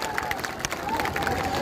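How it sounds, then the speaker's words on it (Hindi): An audience applauds for Prem ji, giving a short stretch of steady clapping from a crowd at moderate loudness. "मैं चाहता हूं सबसे पहले जोरदार ताली आप लोग प्रेम जी के लिए यहां पर बजाने का काम करें"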